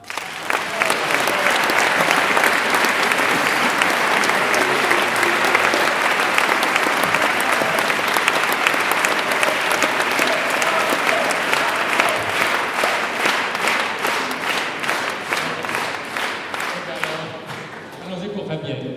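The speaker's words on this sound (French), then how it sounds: "nous aurons le temps de vous applaudir la chorale des Triomphes et sa chef de chœur Catherine" An audience applauds a choir at a concert, dense sustained clapping from a crowd that holds loud and even for most of the time before tapering off at the end.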